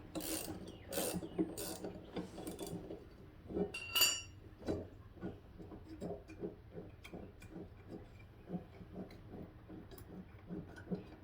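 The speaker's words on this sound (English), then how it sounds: "So we got our wrench here." A wrench ratchets on the blade bolt of an electric Toro mower, a close series of quick clicking and rasping strokes with a few louder clanks early on, fairly quiet, no voices.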